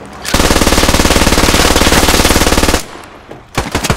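Machine gun fire in the military shooter Squad, Russian infantry fighting in Afghanistan: a close, loud, unbroken automatic burst of about two and a half seconds, then a brief pause and a few more rapid shots.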